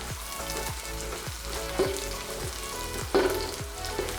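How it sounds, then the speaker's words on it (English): Mustard seeds pop in hot oil alongside cashews, chana dal and urad dal, a quiet sizzle with regular ticking pops and a couple of sharper clinks. "Now I'm letting the mustard seeds to pop, and then I'm putting in dry chili."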